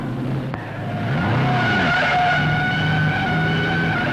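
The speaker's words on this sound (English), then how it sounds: "The O'Shea car skidded, turned over, it's burning fastly." The O'Shea race car skids into the north turn, tires squealing in wavering, rising and falling tones over a dense, loud engine roar, with a brief sharp click near the start.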